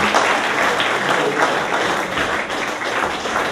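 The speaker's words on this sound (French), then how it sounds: "Vladimir, que vous pouvez applaudir bien fort" A festival audience claps heartily for an accordion teacher called to the stage. The applause is dense and even throughout, with no speech on top.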